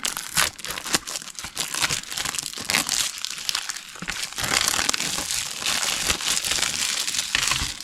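Packaging of a Lollipop Chainsaw RePOP collector's edition for Xbox is torn and crinkled open close up, with steady rustling and sharp ripping bursts throughout and no talk.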